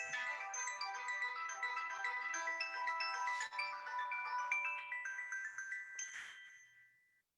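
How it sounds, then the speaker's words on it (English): A telephone ringtone plays as a continuous bright electronic melody for about seven seconds, moderately loud and alone, then fades out at the end. "The phone rang, but there was nobody there."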